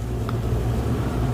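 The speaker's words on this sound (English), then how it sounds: "I don't know what that sound is. I think it's my fridge." A household refrigerator hums with a steady, low, continuous drone that stays even throughout, with no talking over it.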